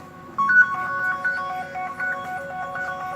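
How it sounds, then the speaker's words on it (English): A mobile phone ringtone plays a bright repeating electronic melody for about three seconds, fairly loud and close, with no talk over it. "That's my phone, kid."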